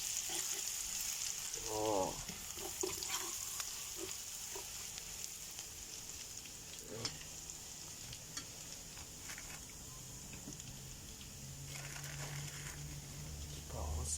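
Eel fries in a pan with a constant low sizzle while it is stirred, giving occasional scraping clicks, and a voice speaks briefly near the start.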